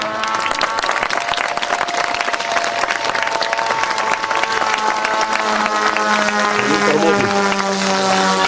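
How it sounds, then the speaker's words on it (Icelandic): Applause and cheering from an outdoor crowd at an Icelandic model aircraft flying display, steady dense clapping filling the whole stretch, with a droning aircraft engine tone running underneath. "Þið megi gefa honum gott klapp fyrir þetta."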